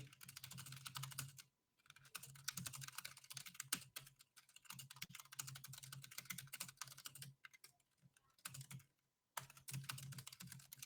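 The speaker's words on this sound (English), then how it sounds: "I need to type in something for the team" Rapid typing on a computer keyboard, a dense stream of close key clicks in bursts with brief pauses between them, fairly quiet with a low background hum and no speech.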